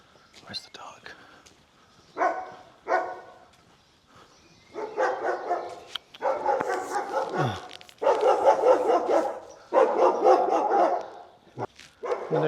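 A dog barks in several bursts near the water on the Camino de Santiago, close by and fairly loud, with short pauses between them and a faint voice underneath.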